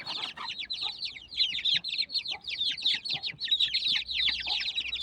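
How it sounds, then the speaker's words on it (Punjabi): Several hens cluck and chatter continuously in rapid bursts, close by, with a low rumble underneath. "ਦੂਜੀ ਮੁਰਗੀ ਦਾ ਜਿਹੜੀ ਪਾਰਸ ਦੀ ਧੀ ਆ"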